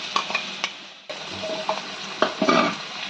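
Ginger and garlic paste sautés with chicken masala in a pan, making a soft sizzle broken by scraping stirs and light clinks of a spoon against the pot. There is no voice.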